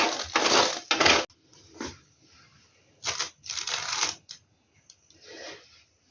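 A chocolate bar is rubbed against a metal grater over a jelly cake in short scraping bursts, close and crisp, with brief pauses between strokes.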